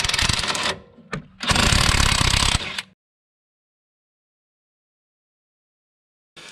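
Impact gun running on 14mm bolts at the lower control arm bracket of a 2009-2020 Nissan 370Z, heard as two loud close bursts of rattling hammering with a brief pause between them, followed by silence.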